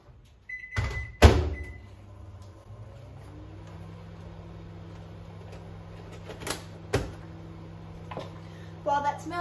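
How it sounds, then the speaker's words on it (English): A microwave oven runs while melting butter for a cheesecake, its steady low hum continuing after a door clunk and a few clicks and knocks, with kitchen handling noises near the end. "I'm going to melt it completely in the microwave."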